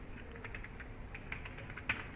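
Soft, rapid computer keyboard typing while a folder name is entered, a quick run of light key clicks at moderate distance with no talking.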